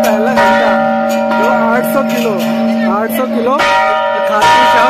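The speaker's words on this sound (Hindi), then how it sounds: "इसके अंदर ये लोग बजा रहे हैं, हम भी बजाते हैं 800 किलो का घंटा" A large 800 kg temple bell cast from eight metals rings at the Khatu Shyam temple in Delhi, giving loud, sustained tones struck several times in quick succession that ring on close by, with voices and crowd noise underneath.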